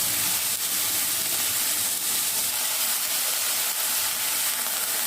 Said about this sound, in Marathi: ती कांदा पात यात घालायची आहे आणि तेलात आता आपल्याला छान परतवून घ्यायची आहे